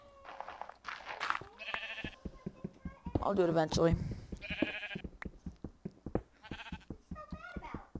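Sheep in Minecraft with the Jolicraft texture pack bleat several times in short, wavering calls, clear and close, interleaved with someone talking over gameplay.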